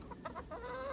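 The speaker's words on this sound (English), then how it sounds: "Don't you have more chickens than last time?" Several chickens cluck in short bursts on a permaculture farm, with one hen's drawn-out call rising at the end, close and fairly loud.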